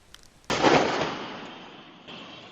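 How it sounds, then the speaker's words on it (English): Military field gun fires once, a sudden loud boom with a long decaying rumble, followed by a fainter second report, distant and outdoors. "A display of firepower by the field guns as the military regains control"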